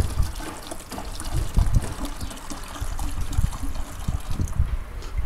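Wynn's diesel injector cleaner pours steadily into a diesel fuel tank, a continuous close trickling liquid sound lasting several seconds with no talking.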